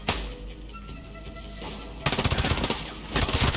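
Heavy automatic gunfire in Ghost Recon Breakpoint's Deep State DLC, a sustained loud burst starting midway and continuing in rapid bursts, with rumbling background under softer earlier combat.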